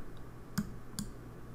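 Two crisp computer mouse clicks while working in QuickBooks accounting software, quiet and close, spaced about half a second apart over faint room hiss.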